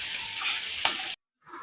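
Masala with chopped tomato sautés in a pan for a fish-head muri ghonto, a close, bright sizzle with a stirring clack, then a brief cut to silence before the sizzle returns softer.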